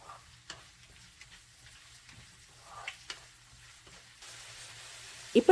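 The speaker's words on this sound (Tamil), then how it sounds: "நல்லா பொன்னிறமாக ஆற வரைக்கும் நம்ம இந்த வெங்காயத்தை வதக்கிக்கணும்." Chopped onions sautéing in a pan until golden, a faint sizzle with soft occasional stirring scrapes, a louder clatter at the very end, no talking.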